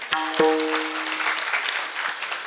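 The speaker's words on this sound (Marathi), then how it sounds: "एकदा कडकडून टाळ्या होऊ द्या मंडळी" An audience at a devotional kirtan gathering claps together after a brief ringing tone at the start, the applause a steady, moderately loud patter that gradually thins out.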